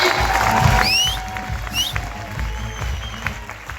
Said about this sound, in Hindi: अगर ये यहाँ पे खड़े हैं तो एक बार जोरदार तालियां।